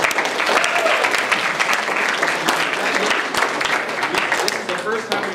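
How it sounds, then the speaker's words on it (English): At a medical student association general meeting, a large audience gives sustained applause, dense and loud, steady for several seconds with individual claps standing out, while a voice speaks over it. "One more round of applause for all of you."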